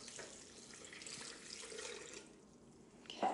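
Water is poured into a blender jar while making a smoothie, a soft continuous splashing hiss that thins out partway through and ends with a brief louder knock, fairly quiet overall with no speech.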